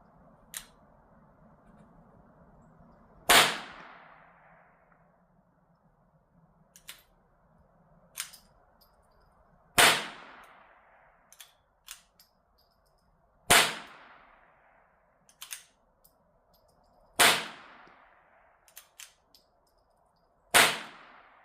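Five suppressed .22 rimfire shots from a B&T Tiger 22 using CCI Quiet ammunition, each a sharp close crack spaced a few seconds apart outdoors, with faint clicks and a low hum between.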